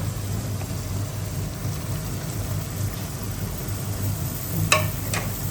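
A steady, quiet sizzle of meat frying with onions in a pan, with a couple of faint clinks near the end.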